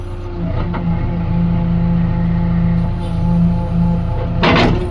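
The diesel engine of a JCB backhoe loader hums steadily at close range, and a short, sharp jolt thuds near the end as the boom's hydraulic cylinder closes fully.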